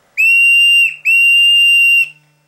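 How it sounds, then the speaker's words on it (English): A homemade whistle bent from a pop can gives two loud, steady, high-pitched blasts close up, the first under a second and the second about a second long, with a short gap between. "it makes a very loud and effective whistle"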